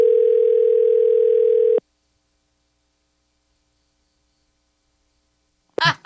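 A steady telephone dial tone hums alone for nearly two seconds after 0 is dialed, then cuts off abruptly into silence before a brief clatter at the end.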